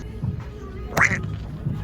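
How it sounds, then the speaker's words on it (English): A toy duck in a store aisle gives a single loud, close squeaky quack in the middle, with quieter background noise around it. "It's just a random duck over here."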